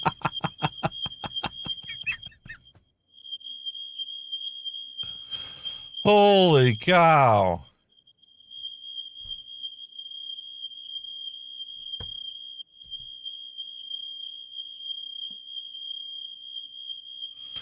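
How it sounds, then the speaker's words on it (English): A home smoke alarm chirps in steady repeated high beeps through most of the stretch, moderately loud in the room, while someone talks over it and briefly exclaims. "And there goes his smoke alarm again."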